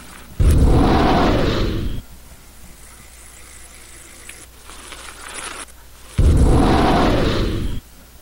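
A bomb in the browser bike game Free Rider HD goes off twice, each a loud, sudden hissing blast lasting over a second before cutting out, separated by several seconds of near quiet.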